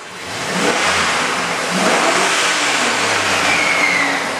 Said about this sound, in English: We'll give it a little rev up.